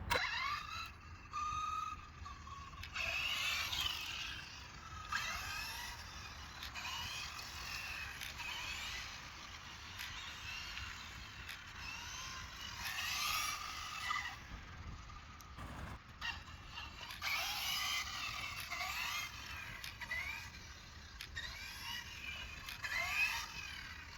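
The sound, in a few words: 6S Infraction RC car motor cutting power while steering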